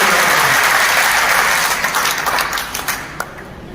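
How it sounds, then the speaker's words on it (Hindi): A crowd at a backward-classes political rally in Hisar, Haryana breaks into loud, dense applause that holds steady, then thins and fades toward the end. "एक बार जोरदार तालियां।"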